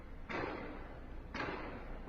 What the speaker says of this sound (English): You can hear the clear back and forth between the gunfire.